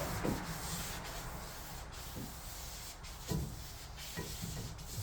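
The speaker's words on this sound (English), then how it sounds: "we get a brake clean, wipe them down." A rag wipes brake cleaner across new brake rotors for a 2014 Nissan Murano, giving soft repeated rubbing strokes at an uneven pace, close by and fairly quiet.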